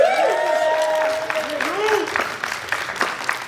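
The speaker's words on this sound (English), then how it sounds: "Let's get a round of applause for all of our panelists today." An audience applauds the panelists at a WonderCon convention panel. The clapping is steady and moderately close, mixed with tonal whistles or cheers and crowd voices.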